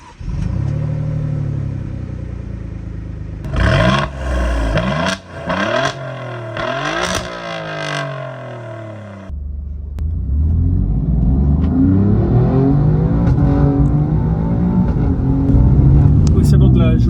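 An Alfa Romeo Giulia Quadrifoglio with its 510 hp engine revs in sharp bursts, with rising and falling pitch sweeps, then settles into a steady loud rumble as it pulls away, with talk over much of it.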